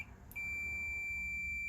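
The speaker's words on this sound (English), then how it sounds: "when a circuit is connected and closed, and you can hear an actual beep" A multimeter on continuity test, probing wiring inside a Pioneer SX-1250 stereo receiver, lets out a steady, piercing electronic tone that starts abruptly after a brief click and holds unbroken, loud and close.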